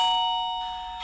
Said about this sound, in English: That's how it actually sounds when somebody is at the doorbell.